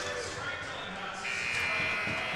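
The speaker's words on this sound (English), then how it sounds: "Chance at the buzzer, easily sticked aside by Alves Thomas off the stick of Rowan Monty" A long electronic buzzer ends a period of a Rhode Island Division 1 boys' high school hockey game between Bishop Hendricken and La Salle Academy, sounding steadily over arena noise and a play-by-play commentator.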